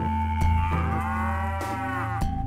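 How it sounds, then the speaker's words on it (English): A cartoonish cow moo from the After Dark 4 screensaver software plays loud and close, one long sustained bellow with a steady drawn-out tone over a continuous synthesized backing. "An occasional moo will emanate from the system too."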